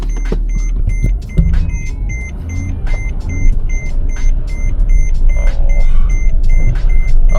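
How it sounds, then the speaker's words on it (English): A faulty car rolling on flat tires, a steady low rumble and grinding drone with repeated electronic warning beeps from the dashboard, close and continuous without talk. "I'm driving on flat tires."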